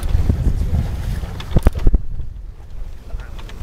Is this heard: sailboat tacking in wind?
yes